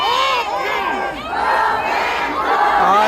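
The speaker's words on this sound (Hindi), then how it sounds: "बहुत ज़्यादा भीड़" A large protest crowd in Joshimath shouts slogans in unison, a dense mass of overlapping voices rising and falling in waves, loud and close, with no single speaker standing out.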